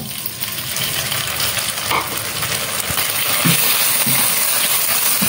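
Marinated beef stir-frying in a pan with spinach vegetables, a steady close sizzle running throughout with occasional scrapes and stirring clatter rising slightly toward the end.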